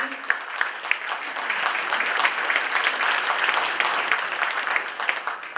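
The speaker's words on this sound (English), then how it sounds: "Give a round of applause for all these people who are committing to our community." A meeting audience applauds new community members, a dense steady patter of many hands clapping for several seconds with no speech over it.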